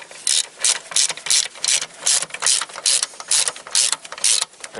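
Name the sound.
ratchet wrench tightening 10mm battery bolt, Honda Civic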